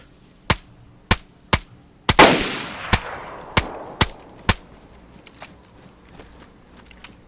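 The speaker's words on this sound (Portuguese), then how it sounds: "tô tomando tiro do amigo dele" Gunfire in the video game DayZ: a string of sharp single shots at a steady clip, with one heavier blast midway trailing a long rumbling tail, the later shots growing fainter.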